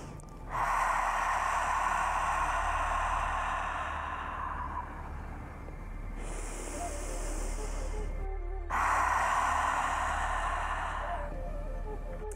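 Long, steady breathy exhales through the mouth imitate sea waves, hissing like surf, rising and easing in broad swells with brief pauses between breaths, close to the listener.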